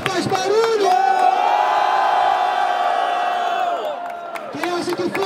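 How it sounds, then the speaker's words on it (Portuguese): At a rap battle, a crowd roars with cheering, shouting and whoops, loud and sustained as a host's voice rises over it, then the noise tapers and a fresh burst of cheering returns. "Rapaziada, quem acha que foi? Se H e Japa faz barulho"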